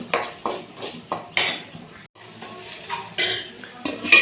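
A spinach and cowpea stir-fry (murunga keerai poriyal) is tossed in a pan, with a series of close, rhythmic metallic scrapes and clinks from the spoon, briefly pausing midway before resuming.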